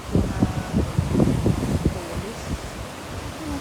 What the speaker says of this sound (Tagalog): Today is windy and sunny and wavy.